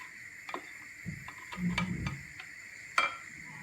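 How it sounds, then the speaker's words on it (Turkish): A spoon stirs yogurt into a pot of boiling salted water, making soft swishing and scraping sounds with a few light clinks against the pot, quiet and close. "Şöyle yoğurdumu da karıştırıyorum."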